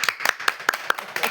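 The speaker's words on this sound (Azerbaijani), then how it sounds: "Alqışlar." Several people clap in quick, uneven bursts at a family birthday celebration, a short close round of applause with a few claps standing out.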